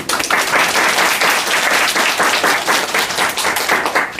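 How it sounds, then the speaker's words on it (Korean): Congregation applauding to welcome a pastor to the pulpit at a church service; loud, close, vigorous clapping from many hands with a brisk, uneven patter, continuous and without speech. "목사님 나오실 때에 박수로 환영하겠습니다."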